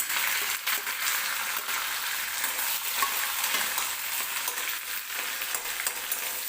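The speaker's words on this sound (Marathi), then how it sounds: "लगेच कांदा टाकते कढीपत्ता आणि हिरवी" Onion, curry leaves and green chilies frying in hot oil in a pan for aloo poha, a steady loud sizzle with stirring scrapes throughout, no talking.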